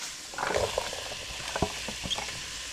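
Softened onions drop into a hot pan for arroz con pollo and sizzle, a crackling hiss with small pops and stirring scrapes, close by and without speech.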